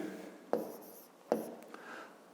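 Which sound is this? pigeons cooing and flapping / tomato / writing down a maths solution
writing down a maths solution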